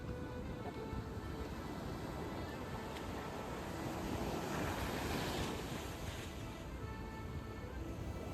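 Sea waves roll onto the beach at Puri, a continuous broad wash of surf with wind buffeting the microphone, swelling slightly in the middle.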